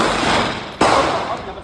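A CZ Shadow 2 9mm pistol fires a single sharp, loud shot at a shooting range, cutting through steady background noise.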